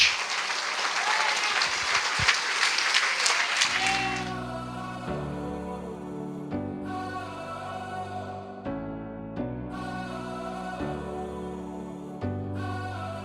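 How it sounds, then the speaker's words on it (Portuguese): Congregation applause at a Christian program, a loud dense clapping burst for a few seconds that gives way to sustained music with organ-like tones carrying on beneath fading crowd noise. "Aplauda o Rei."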